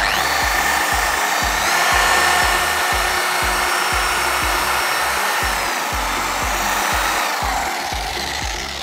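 A power sander works over the paint on a 25-year-old Peugeot 306 with fine grit, a steady whirring hiss punctuated by rhythmic low thumps as it passes along the panel.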